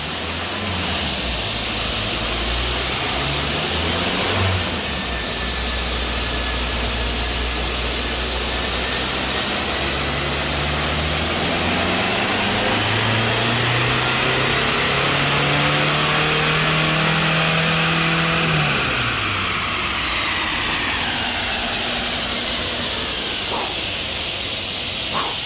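A Volkswagen TDI diesel engine with a Banks catback exhaust and S&B intake revs on a dyno, climbing steadily in a long loud pull, then dropping off and settling back, with a hissing rush throughout.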